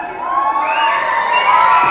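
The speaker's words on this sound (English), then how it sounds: "get to really cheer them on, guys, because it is the first performance they've ever done" Crowd of onlookers cheers and whoops loudly for children's first dance performance at a Christmas show, a continuous, close wall of high shouting and cheering with no clear break.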